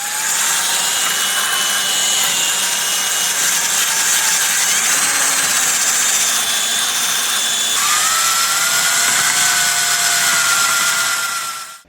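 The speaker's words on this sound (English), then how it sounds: "I'm going to keep going with the wire wheel, clean this up" A power wire wheel grinding rust off a Briggs and Stratton Snow Series engine: a loud, steady, high-pitched whir with gritty scraping that holds for the whole stretch, its pitch shifting slightly partway through, with no voices.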